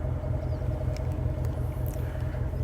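A manual 2023 Ford Mustang GT with a V8 idles and pulls away in a deep, steady, close rumble heard alone, with no one speaking.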